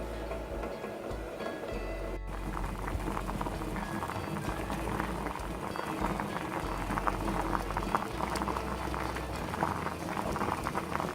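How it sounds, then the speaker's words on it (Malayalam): Rice rasagulla balls made from leftover rice simmer in a covered pot, giving a steady, dense bubbling hiss that continues at an even level throughout with no talking. "നമ്മൾ ഓരോ ബോൾസായിട്ട് ഇട്ട് കൊടുക്കുക. ഒരു 15 മിനിറ്റോളം ഇത് മൂടി വെച്ചിട്ട് നന്നായി വേവിക്കും"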